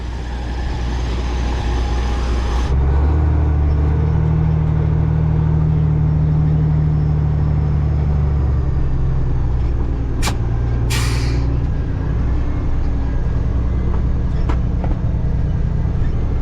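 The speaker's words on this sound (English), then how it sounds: "we're moving now in Jeff's truck" A pickup truck on a farm during corn harvest rolls downhill with a steady, close, loud engine rumble and road drone, a few sharp hissing bursts cutting through midway, no talking.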